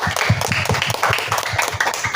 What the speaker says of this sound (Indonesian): tepuk tangan yang meriah dulu untuk semua regu